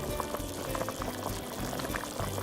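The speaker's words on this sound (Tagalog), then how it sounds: "while it's boiling" Beef simmering in a pot for Filipino kare-kare, a steady close bubbling and gurgling roll with no voices.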